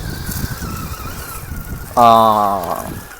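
A Jeep Wrangler Rubicon climbs an off-road obstacle in an off-road contest against a Bronco. A low, rough rumble gives way about two seconds in to a loud, sustained engine roar that slowly drops in pitch.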